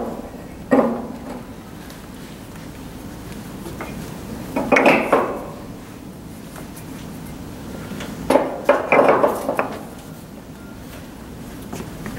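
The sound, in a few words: refractory stones being placed in a wood stove firebox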